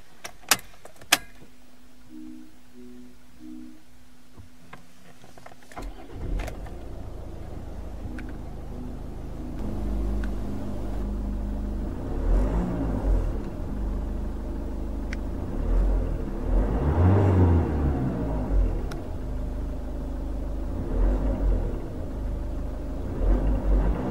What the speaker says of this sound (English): So let's power on the Mazda and see how it sounds.